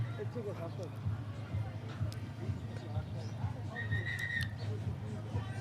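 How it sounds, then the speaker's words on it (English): A referee's short, shrill whistle blast sounds at an under-19 rugby match at Pro Ed Academy, moderately near, amid outdoor crowd murmur and a commentator talking. "there we hear it, the short whistles"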